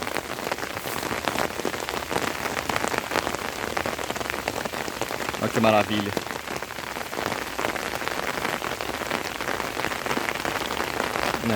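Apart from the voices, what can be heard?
light rain falling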